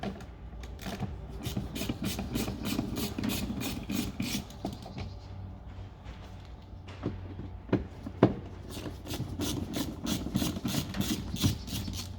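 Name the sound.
undoing T20 Torx bolts on Renault Clio boot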